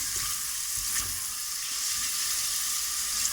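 Onion sizzling steadily in a hot pot while being stirred, a continuous close frying hiss with faint scraping, no voices.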